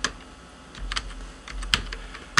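Someone types on a computer keyboard, entering details into Vedic astrology software; a few scattered keystrokes and sharper key clicks land irregularly, close and quiet with no talk.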